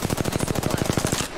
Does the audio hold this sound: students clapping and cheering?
no